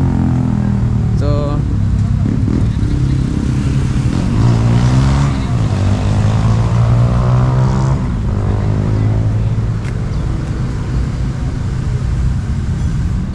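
A motorcycle engine runs at the Kuantan Race Public Motorpark, a steady loud drone with rising and falling revs throughout, mixed with background voices and ambient activity.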